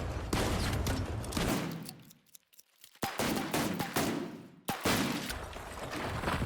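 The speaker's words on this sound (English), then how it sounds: "Destroying a wall with the grenade launcher takes about 7 to 8 grenades." Grenade launcher pounding a wall in the shooter game The Finals, loud repeated explosive blasts and crumbling debris with brief gaps between volleys.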